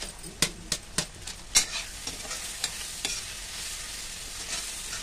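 A spoon scrapes and clanks while Maggi masala is stirred and fried with tomatoes in a pan, with light sizzling underneath. The early strokes are sharp and close, then they thin out into a soft, steady fry.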